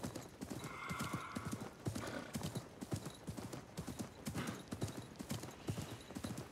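Horse hooves clip-clop in a steady, close rhythm with whinnies and neighs in the Assassin's Creed Mirage video game, with game ambience and a faint background voice underneath.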